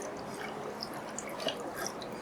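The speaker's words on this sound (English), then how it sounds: "so now the bleaching process is completed, so I'll pour out the bleach" Bleach pours out of a film developing tank in a wet, dripping, sloshing trickle, close and fairly quiet, with no voices.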